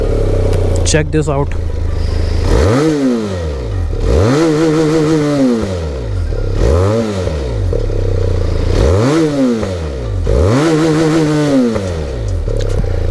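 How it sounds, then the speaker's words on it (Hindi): A Benelli TRK 502 motorcycle with an inline two-cylinder engine is revved five times in a steady rhythm, each blip rising and falling with a raspy exhaust bark up close. Someone speaks briefly at the start. "मैं एक बार आपको एग्जॉस्ट नोट सुनाता हूँ"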